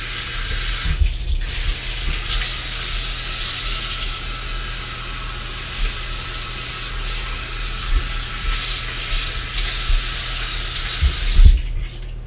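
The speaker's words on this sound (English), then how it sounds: "just pour myself in hot water right now." Hot water pours and runs in a bathroom with a steady, fairly loud rushing splash near the mic, and a few brief knocks and clatters stand out near the end.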